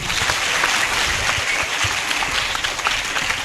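An audience at an outdoor cricket oval claps steadily and densely for several seconds, a continuous wash of applause with no voices standing out.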